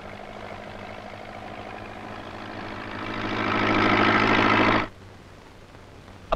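A tractor engine idles with a low steady chug that swells louder for a moment and then abruptly drops back to a quieter rumble.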